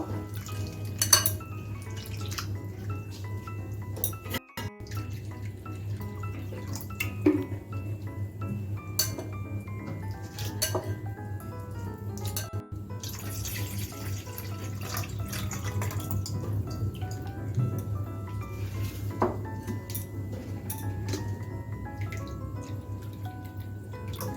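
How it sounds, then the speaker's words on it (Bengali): Sago pearls washed and rubbed by hand in a bowl of water, giving soft continuous swishing and sloshing with light clinks of the bowl, under a steady low background hum. "এখন আমি সাবুটা দুয়ের থেকে তিনবার ধুয়ে নেব ভালো করে হাত দিয়ে রোগড়ে রোগড়ে ধুয়ে নেবো"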